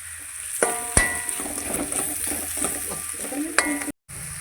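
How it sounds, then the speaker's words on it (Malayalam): Turmeric and coriander powder being stirred in a hot frying pan, a spoon scraping and clinking against the metal over a light sizzle, with a few sharper knocks and a brief cut near the end. "മഞ്ഞൾപ്പൊടി ഇട്ട് ചെറുതായിട്ടൊന്ന് ഇളക്കി കൊടുക്കണം കേട്ടോ"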